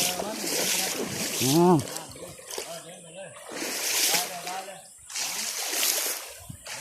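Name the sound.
walking through flowing stream water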